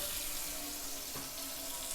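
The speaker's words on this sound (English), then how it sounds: "Turn the water on," Kitchen faucet runs water steadily into the sink below a newly repaired garbage disposal, a continuous close hiss and splash with no speech.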